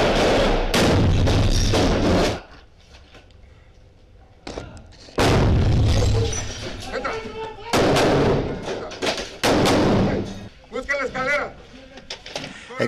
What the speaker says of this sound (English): Exchanging gunfire with Guzman's henchmen, five of whom were killed in the raid.